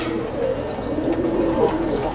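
Large-winged pigeons kept for sale coo softly in a loft, a continuous low murmur of overlapping calls under a steady background hum.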